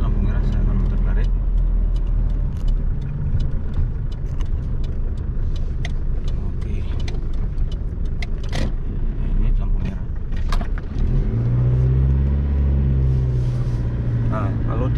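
A car drives through city streets in Mecca and makes a U-turn, a steady close engine and road rumble inside the cabin with someone talking over it and faint clicks throughout.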